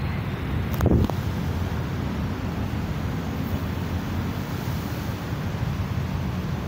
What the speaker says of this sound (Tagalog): Kaya may hangin naman, pero hindi masyadong malakas.